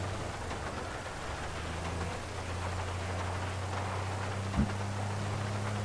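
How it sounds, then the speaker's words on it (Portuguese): Rain falling in GTA V around Los Santos, a steady broad hiss of downpour with a low rumbling undertone and a brief knock near the end, no voices. "Gosto imenso do barulho da chuva."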